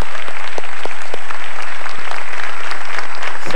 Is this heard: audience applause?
yes